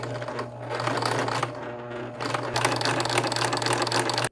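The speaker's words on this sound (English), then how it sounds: "I take each one to the serger and I serge only the parts that I've sewn thus far" A serger overlock machine trims and stitches along sewn fabric seams in a close, loud, rapid whirring run that pauses briefly near the middle and then picks up again before stopping abruptly.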